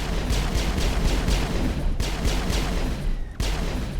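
Pistol fire in Mass Effect during a long-range fight, a rapid, regular string of sharp close shots with a couple of short breaks, over a background of combat noise.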